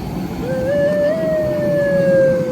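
A police siren wails steadily in a rising and falling tone, fairly loud over a low rumble of engine or traffic noise.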